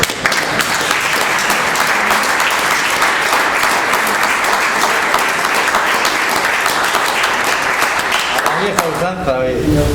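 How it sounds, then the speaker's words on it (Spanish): Dense, sustained applause from a seated audience at a talk in Donostia, loud and even for nearly ten seconds before breaking off abruptly at the end. "aplausos por favor"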